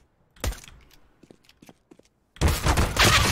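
Gunfire in a first-person shooter game: a loud burst, then scattered small clicks and thuds, followed by a dense, sustained volley of rapid shots near the end.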